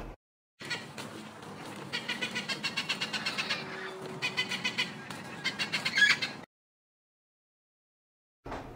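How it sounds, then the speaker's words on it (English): A parrot squawks in a run of repeated harsh calls, loud and close, for several seconds, then stops into silence. "P for parrot."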